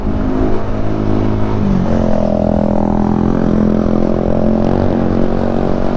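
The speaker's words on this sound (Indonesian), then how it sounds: "mobil juga rame." Several cars pass on a busy, well-lit road at night, their engines droning steadily and loudly throughout with rising and falling swells as vehicles go by, no talking.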